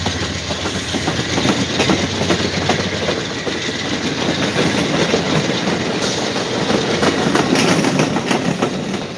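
An old train in New Haven paint scheme rolls past close by, a loud steady rumble with continuous clickety-clack of wheels over rail joints and occasional faint wheel squeal, no voices.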